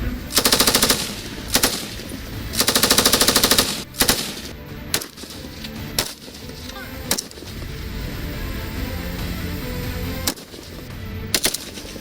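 Bursts of machine-gun and rifle fire ring out at a BSF firing range in the desert, with sustained automatic volleys and sharp single shots spread across the clip, loud and close.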